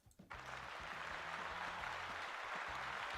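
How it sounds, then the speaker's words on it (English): A crowd applauds to honor a member named Moot: after a brief quiet start, dense, steady clapping fills the rest of the clip at an even level, with no talking. "let's give a round of applause to Moot"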